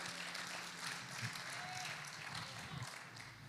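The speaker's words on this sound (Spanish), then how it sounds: "¿Cuántos pueden dar un aplauso al Señor?" A church congregation applauding in praise of the Lord during a bilingual sermon: broad, continuous clapping from a large room, fairly steady and moderately loud, with some crowd noise mixed in.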